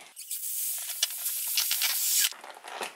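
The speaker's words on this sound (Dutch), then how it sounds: "En laat je de lucht er een beetje uit." Air hisses slowly out of a balloon pressed hard against a phone, a close, steady airy rush that wavers and squeaks slightly before a short pause and a final fainter spurt.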